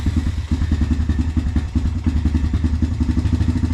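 An old Honda engine idles roughly on a chilly day, a close, loud, uneven chugging thump with irregular pulses and clattery misses.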